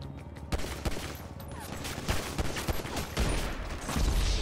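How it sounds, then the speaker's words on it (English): Gunfire in the video game GTA 5: dense, continuous bursts of shots, some rapid like automatic fire, sounding loud and close throughout with sharper cracks punctuating a steady rattle. "Guys, stop shooting at me."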